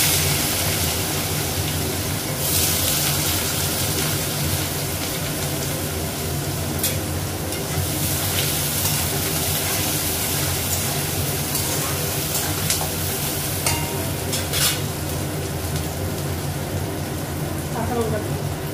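Onion frying in a pan in a home kitchen: a continuous, even sizzle with a constant hiss, a few sharper crackles scattered through, and no break in the sound.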